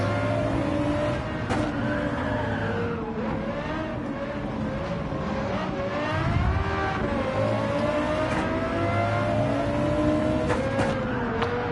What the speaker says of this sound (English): This Lexus, so high revving, so loud.